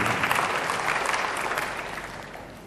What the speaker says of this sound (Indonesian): Tepuk tangan yang paling meriah buat Allah